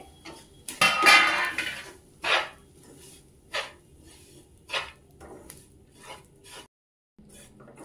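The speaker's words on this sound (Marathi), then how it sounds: "आता मी ही खारीक पावडर आहे ना ती पण त्यामध्ये जरा भाजून घेते." Dry date powder is roasted in a pan, heard as a series of sharp metallic scrapes and clinks of a spoon against the pan, spaced irregularly and close by over a quiet background, with a brief silent gap near the end.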